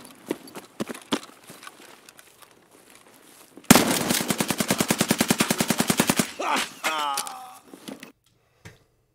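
A few scattered shots, then a sustained burst of rapid automatic gunfire in Escape From Tarkov, evenly spaced and loud, followed by trailing echoes and quieter clatter.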